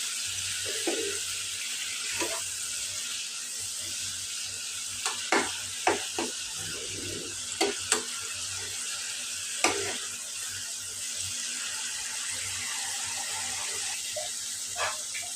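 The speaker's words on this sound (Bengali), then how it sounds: "পানিটা দিয়ে আমি আবার ভালোভাবে মশলাটা কষিয়ে নেবো" A spice paste sizzles steadily in a pan while a spoon stirs and scrapes at intervals, producing sharp clinks over the constant frying hiss.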